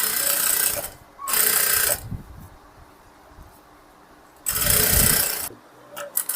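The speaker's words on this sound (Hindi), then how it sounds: "आपको एक सीधी सिलाई लगा देना है इस तरह से" Sewing machine running a straight stitch along a blouse shoulder seam, in two loud steady bursts of about a second each separated by quieter pauses with faint handling, ending in short stop-start stitches.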